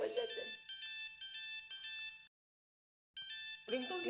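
A mobile phone rings with a bright, tonal melodic ringtone that plays steadily, stops for about a second, then starts again, with nobody speaking over it.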